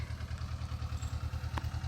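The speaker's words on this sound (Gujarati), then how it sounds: "ટ્રેક્ટરે એનું કામકાજ ચાલુ કરી દીધું" A mini tractor engine runs in a farm field, a steady low chugging pulse with an even rhythm that carries on throughout.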